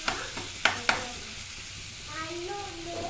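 A spoon scrapes and clacks against a pan while tomato and onion curry is stirred, with a few sharp knocks early on. A soft sizzle runs underneath.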